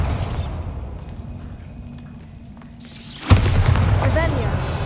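Bombarda spell in the Hogwarts Legacy video game: a quiet stretch ends in one sudden booming explosion, loud and near, followed by rumbling and rattling debris.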